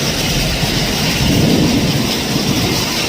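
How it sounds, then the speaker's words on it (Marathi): Hail pelts a metal roof sheet during a hailstorm in Pune, making a dense, loud, continuous rattling roar that holds steady throughout with no pauses. "गारांचा पाऊस चालू आहे"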